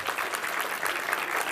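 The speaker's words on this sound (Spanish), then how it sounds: "os pido por favor que recibáis con un fuerte aplauso a Ricardo Eiriz" An audience at a talk applauds a speaker as he is welcomed to the stage, a steady, dense clapping from a crowd, moderately loud throughout.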